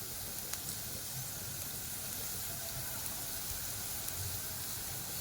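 Stuffed potatoes frying with salt and turmeric in a pan give a steady, even sizzle and hiss that runs throughout, close and moderately quiet, with no voices.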